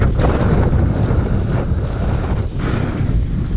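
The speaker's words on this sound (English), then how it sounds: "That's how windy it is out here" Strong wind roars and buffets the microphone with a constant low rumble, gusting slightly, no voices.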